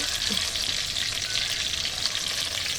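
Ridge gourd pieces fry in oil in a pan, giving an even, close, continuous sizzle with no voices over it.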